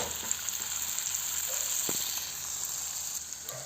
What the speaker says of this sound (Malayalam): ഇനി ഞാൻ ചട്ടി ചൂടായപ്പോൾ എണ്ണ ഒഴിച്ച് കൊടുത്ത് ഇനി നമുക്ക് ഈ മുട്ട ഓരോന്ന് ഇതിലേക്ക് വെച്ച് കൊടുക്കാം